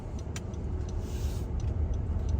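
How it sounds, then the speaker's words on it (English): Car pulling out of a parking lot during a driving test route: a steady low engine and road rumble with a few light clicks, continuous and fairly close. "and then we're gonna pull out from the parking lot"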